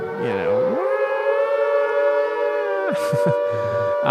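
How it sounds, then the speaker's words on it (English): A World War II–style air raid siren wails loudly from loudspeakers, rising to a sustained howling tone that holds before winding down, with brief other noises at the end. "this loudspeakers wailing like a World War II air raid siren"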